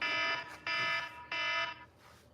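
An electronic alarm going off in three loud, harsh buzzing bursts of about half a second each, separated by short gaps, followed by a fainter fading tail.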